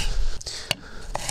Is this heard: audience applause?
no